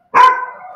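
A single loud, close dog bark rings out sharply and then trails off.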